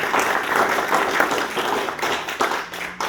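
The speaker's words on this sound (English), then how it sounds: "Let's give them a round of applause." An audience at a county judge candidate debate gives a round of applause, with dense, steady clapping throughout at a fairly close, loud level.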